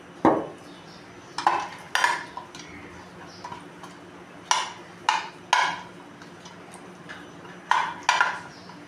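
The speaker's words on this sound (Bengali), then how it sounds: "এর মধ্যে আমি একটু তেল ব্রাশ করে দেবো।" A brush clacks and scrapes inside a cake mould as oil is spread before making dhokla in a home kitchen, with light, irregular metallic taps and clinks spaced a second or so apart, close and fairly quiet.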